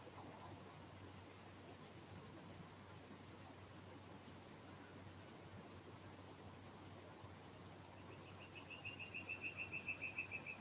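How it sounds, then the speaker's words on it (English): A faint bird call chirps repeatedly near the end over steady outdoor wind and distant traffic rumble. "We got a bird there."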